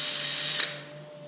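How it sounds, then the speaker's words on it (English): Power drill whirring while drilling into a kayak, a close, high-pitched motor whine with a brief bite as the bit engages, then winding down quieter. "I don't want to drill holes into this and find out it's filled with something."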